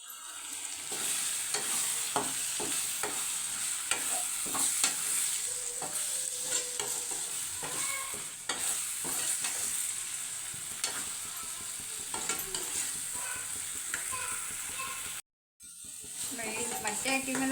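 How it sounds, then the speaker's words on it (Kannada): Eggs for egg bhurji, three of them, frying and being stirred in a pan, with steady sizzling and repeated scraping strokes throughout, close and fairly loud, broken by a brief silence near the end. "ಮೊಟ್ಟೆ ಹಾಕಿದ್ಮೇಲೆ ಒಂದು 5 ನಿಮಿಷ ಬಿಟ್ಬಿಟ್ಟು ಹಿಂಗೆ ಮಿಕ್ಸ್ ಮಾಡ್ಕೊಳ್ಳಿ ಫ್ರೆಂಡ್ಸ್."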